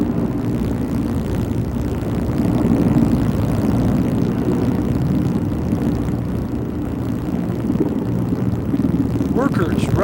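Helicopter rotors and engine drone steadily and loudly throughout while the crew lowers a heavy piece onto a mountain in strong wind; a voice speaks faintly underneath.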